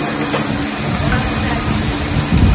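Olive oil hisses on chicken kebabs, a loud, steady broadband sizzle running throughout, with faint voice-like murmur beneath.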